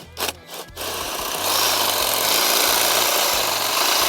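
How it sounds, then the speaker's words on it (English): A steady mechanical whir from a Farmer's Friend Quick Cut Greens Harvester driven by a cordless drill, turning into a louder, rougher buzzing hiss as its blade cuts through salad greens. "this is the Farmer's Friend Quick Cut Greens Harvester, powered by a cordless drill"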